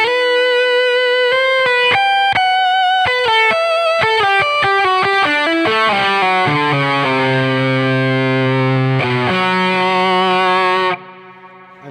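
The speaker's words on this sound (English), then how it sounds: "you're going through all the different fuzz tones and trying to emulate the past" Electric guitar played through fuzz tones on a Line 6 Helix, emulating a classic fuzz: a run of distorted staccato notes building into sustained thick fuzzy chords, loud and alone, ending abruptly.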